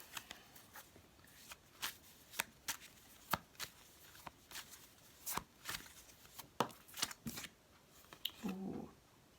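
Fairy oracle cards are shuffled by hand in a quiet room, giving faint, crisp riffling snaps at an uneven rhythm, with a soft rustle near the end.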